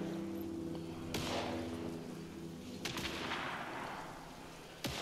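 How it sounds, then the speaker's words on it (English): Gunfire in the game Alan Wake II: three sharp, distant-sounding shots spaced a couple of seconds apart over a quiet, humming background. "Now let's not go towards the gunfire just yet."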